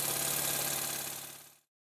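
Stuart 10H model steam engine running, a rapid steady chuffing and mechanical beat, moderately close, that holds for about a second and a half and then cuts off abruptly into silence.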